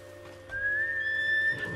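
A player in Ghost of Tsushima whistles for a horse, and a single rising whistle tone carries through the moment, with a horse's neigh close behind amid low game ambience.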